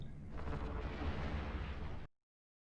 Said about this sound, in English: Eat laser beam.